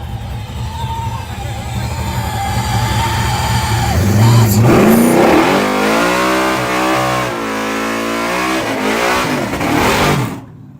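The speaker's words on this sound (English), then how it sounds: "We got a nitrous truck, y'all, sucking a whole bunch of air with a turbo pull." A nitrous-fed turbocharged truck launches in a street race. A loud rumbling idle gives way to a hard, rising pull with a turbo whoosh as it accelerates away, and people shout in the background.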